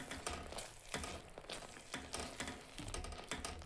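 Fried eggplants are stirred into masala paste in a pan for a stuffed brinjal curry: a quiet, steady sizzle under repeated scraping strokes of a utensil at an irregular rhythm, with no talking.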